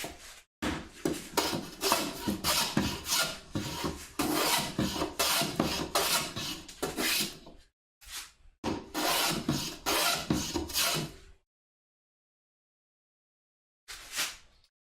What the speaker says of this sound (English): we ought to make fairly quick work of this with the scrub